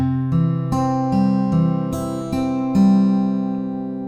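An acoustic guitar plays a fingerpicked pattern of eight clear, evenly spaced plucked notes, ringing close and distinct, with no voices.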